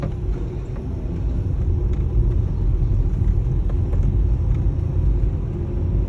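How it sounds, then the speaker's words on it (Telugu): Government vehicles, including revenue department ones, pass in the opposite direction on the Secretariat road in Amaravati, Andhra Pradesh, as a steady low rumble of traffic that stays loud and even throughout. "రెవెన్యూ డిపార్ట్మెంట్ వెహికల్ అన్ని ప్రభుత్వ వాహనాలు ఆపోజిట్ డైరెక్షన్లో వస్తున్నాయి"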